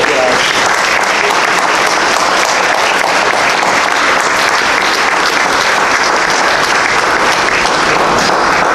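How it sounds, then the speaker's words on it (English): Audience applause at a sports banquet for a basketball team, a dense, loud, continuous roar of many hands clapping that holds steady throughout with no pauses. "Let's give him a round of applause"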